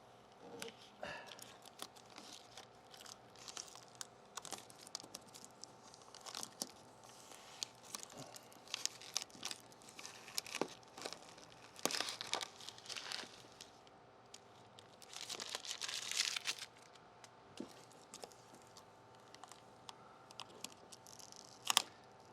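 Backing paper is peeled and ripped off a taillight divider decal on a 2020 Dodge Challenger, making quiet, intermittent crinkling and tearing rustles with a few louder bursts.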